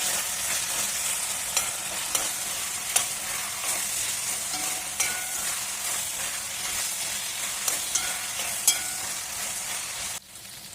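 Onions and meat fry and are stirred together in a pot while cooking plov, giving a steady close sizzle with scattered scraping clicks of the utensil; the sound stops abruptly near the end.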